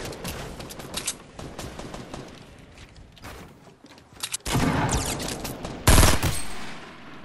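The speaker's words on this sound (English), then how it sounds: "Gotta shoot him down, Bodhi." Video game gunfire in Fortnite: scattered sharp shots and rapid bursts, getting louder and denser toward the end, with heavy sustained fire in the last few seconds and little talk.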